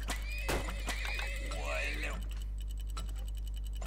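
Horses in a video game whinny loudly in repeated neighs with clip-clop hooves and ticking game sounds, all over a steady low hum and muffled talk.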